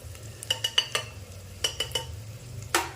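A spoon stirs Khandeshi masala khichdi after red chili powder, black masala, onion-garlic masala, turmeric and salt go in. Several short metallic clinks and scrapes against the pot come in quick clusters over a low background hum, with no talk.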